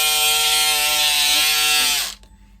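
Cutting through quilted fabric with a powered cutter: a steady, bright whirring buzz for about two seconds, loud and close, that winds down and stops abruptly, with no talking.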